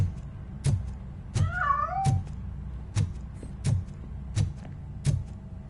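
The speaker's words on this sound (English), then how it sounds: "That cat must be hiding inside." A cat in the video game Robocop: Rogue City meows and yowls several times at uneven intervals, fairly close and clear over a quiet background with faint low thuds.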